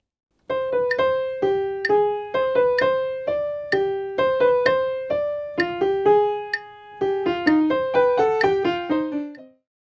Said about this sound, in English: set the metronome to click on every quarter note